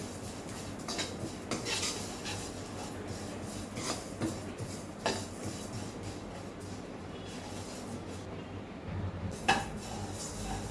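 A spoon scrapes and rattles against a hot metal pan while stirring sesame seeds in ghee, in steady, irregular strokes, with a faint continuous sizzle underneath.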